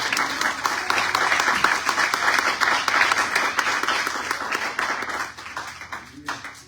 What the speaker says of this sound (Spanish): Den un aplauso al Señor, por favor.